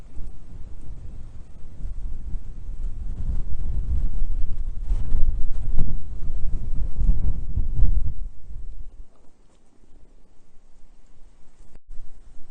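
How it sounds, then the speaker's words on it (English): Steady rumbling wind buffets the microphone outdoors, loud for about eight seconds before easing to a quieter gusty hiss. "Now I'm over by the rabbit tower and it is windy"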